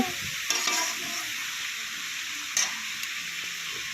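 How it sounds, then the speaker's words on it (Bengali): Brinjal sizzles steadily while being fried and stirred in fish oil, a constant hiss with a few sharp scrapes of the spoon against the pan, close and without talk. "এখন ভালো করে মাছের তেলের সঙ্গে বেগুনটাকে মিশিয়ে নেব বেগুনের সাথে তেলটাও একসাথে ভাজা হয়ে যাবে"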